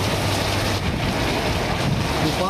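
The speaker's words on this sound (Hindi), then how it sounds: "गाड़ी रुक रहा है बारिश में पूरा पानी दे रहा है" Heavy rain pours on a stopped vehicle, a dense, continuous roaring hiss with wind-like rushing, loud and steady throughout with no voices.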